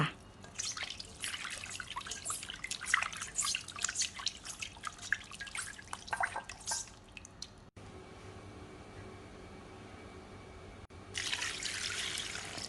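Catfish being rinsed in water in a kitchen sink after salting, with splashing and dripping water that pauses briefly, then a steadier rush of tap water near the end.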